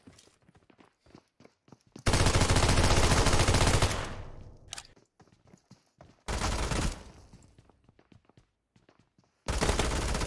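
Rapid automatic gunfire from a weapon in the mobile game PUBG Mobile, three loud sustained bursts separated by quieter stretches of footsteps and small game noises, with no talk.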